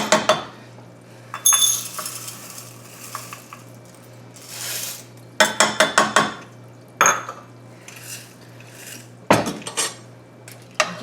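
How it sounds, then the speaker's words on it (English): A spoon stirs elbow macaroni in a metal pot, making repeated irregular bursts of clinking and scraping against the sides. The sounds are close and clear, with brief pauses between strokes and no talking. "Give that a stir."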